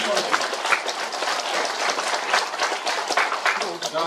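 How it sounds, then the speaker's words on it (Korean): Hearty applause from members at a hometown association's annual general meeting, approving the election of a new president. Close, uneven clapping with distinct hand strikes, mixed with murmuring voices in the room. "동의하시면 큰 박수 한번"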